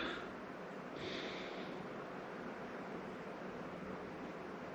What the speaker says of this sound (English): Let's have a wee sniff.